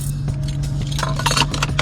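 A key fob for a 2024 BMW Alpina B8 Gran Coupe is handled inside the car, giving a few faint clinks and jingles over a steady low hum.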